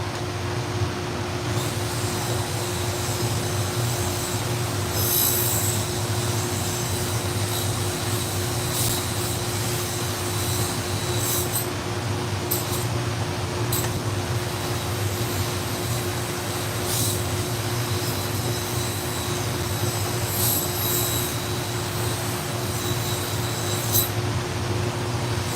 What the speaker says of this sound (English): So I'm going to go to the Scotch-Brite wheel real quick.